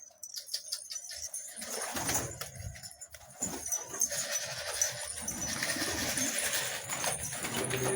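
Pigeons coo and flutter in a loft just after their feed is set out, a steady murmur of bird calls with some wing flapping, moderately close and continuous, with no talking.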